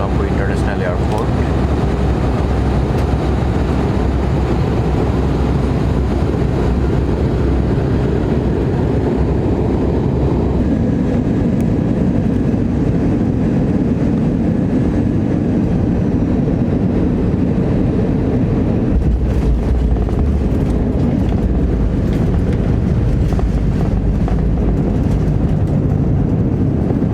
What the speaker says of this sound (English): We are just about to land in Colombo International Airport.